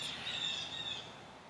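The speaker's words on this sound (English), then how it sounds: "I hear all these wild birds" Wild birds chirp outdoors in a quiet, natural setting, giving a few faint, high twittering calls over soft background hiss.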